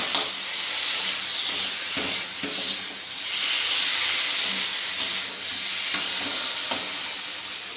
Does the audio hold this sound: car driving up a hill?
no